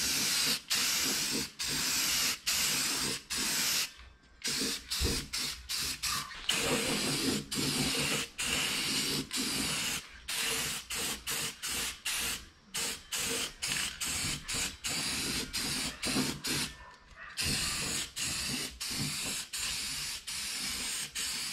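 A 2K clear coat sprays from an aerosol can in repeated hissing bursts, each a second or two long, separated by short pauses across the whole stretch, loud and close with no talking.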